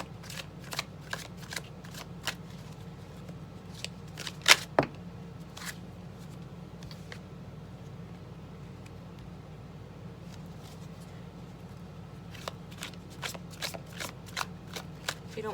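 Tarot cards are shuffled close by in quiet surroundings, giving bursts of crisp riffling and flicking that come in clusters with a short lull in the middle, over a faint low background hum.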